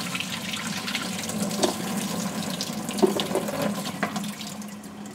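A kitchen faucet runs steadily into a sink, rinsing drained vegetables, including celery, in a colander for a homemade chicken pot pie, with a constant close splashing stream and a few brief clatters.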